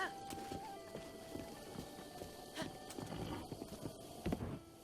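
Rhythmic hoof clip-clops of a horse at a steady pace in Zelda: Breath of the Wild, with low background rumble and faint music-like tones underneath.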